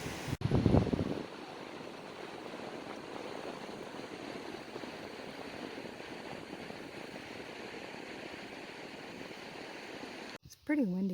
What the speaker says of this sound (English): It's pretty windy up here